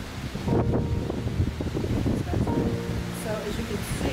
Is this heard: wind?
yes